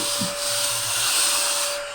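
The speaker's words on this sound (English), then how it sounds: "I love playing with my little mini vacuum cleaner because they're so cute" A small vacuum cleaner hums continuously with a steady high-pitched whine, running close by without pause.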